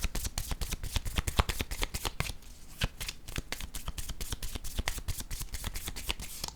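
Tarot cards being shuffled by hand, a rapid, steady riffling of card edges that continues for several seconds close up.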